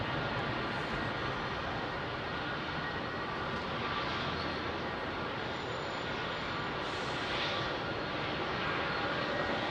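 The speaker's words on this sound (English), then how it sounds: "Virgin Dreamliner that's taxiing out rapidly has been given priority" A Virgin Boeing Dreamliner jet taxis at Heathrow, its engines giving a steady, loud, broad roar that holds throughout without a break.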